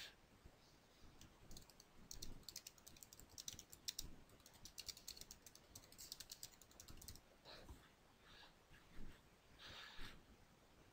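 Notes are typed on a computer keyboard in quick, uneven runs of soft key clicks, with short pauses between bursts, close and fairly quiet, with no talk.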